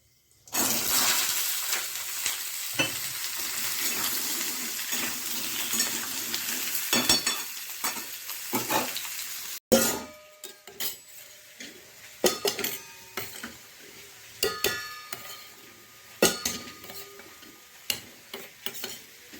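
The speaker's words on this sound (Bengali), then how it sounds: "কিছুটা দই নিয়ে এখানে রেডি করে নিচ্ছি একটু চামচ দিয়ে, খুব ক্রিমি একটা পেস্ট বানাতে হবে" A spoon works yogurt into a creamy paste in a bowl, heard as close, repeated scraping and clinking strokes, continuous at first and then in irregular bursts after a short break.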